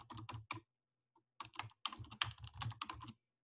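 Quiet keystrokes on a computer keyboard come in quick bursts of typing, with one short pause before a longer run of taps, heard close and alone.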